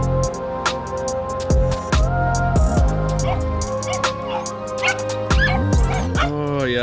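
Dogs at an elevated house on a flood-hit rice farm with a fishpond in Cateel, Davao, Philippines, bark, yip and whimper in bursts close by, over a dense mix of other steady tones.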